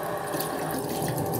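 Water runs steadily from a bathroom tap into the sink during tooth brushing, a continuous broadband splashing hiss at moderate level throughout with no talking.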